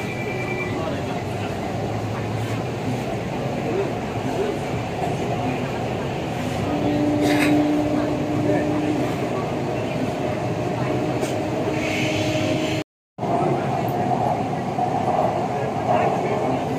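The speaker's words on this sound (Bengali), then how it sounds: "এইবার আমাদের ট্রেনটি গঙ্গার নিচে প্রবেশ করে দেয়।" A Kolkata metro train runs through the underwater tunnel beneath the Ganges toward Howrah, a loud continuous interior rumble with a steady hum and occasional squeals, briefly cut out, with people talking over it.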